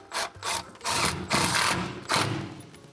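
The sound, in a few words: impact driver driving screws through cleats into studs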